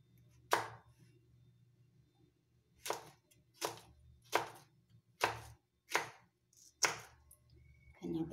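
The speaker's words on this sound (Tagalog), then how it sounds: "Itong okra guys, hiwain natin ng ano guys" Knife chopping fresh okra into small cubes on a cutting board, about seven distinct sharp thuds spaced roughly half a second to a second apart, close and clear against a quiet background.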